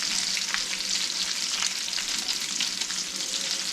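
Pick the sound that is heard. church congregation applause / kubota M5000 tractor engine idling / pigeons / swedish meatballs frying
swedish meatballs frying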